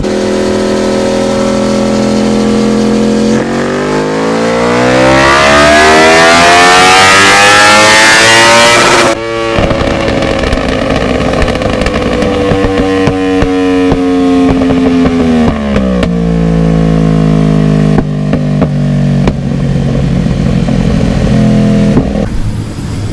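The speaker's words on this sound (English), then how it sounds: "So now we're going to put the Yamaha R1M on the dyno next." Yamaha R1M 1000cc superbike engine runs on a dyno, loud and close, its pitch climbing sharply to a screaming peak before cutting off, then holding high and stepping down through further revs.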